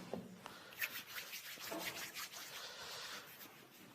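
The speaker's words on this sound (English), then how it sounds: "We'll begin by sanitizing our hands." Hands rub together working in hand sanitizer, a soft, close, continuous swishing and friction sound with faint slaps at the start, quiet and steady throughout.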